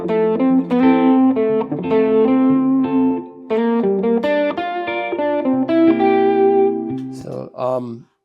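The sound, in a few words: electric guitar soloing over jazz blues chord progression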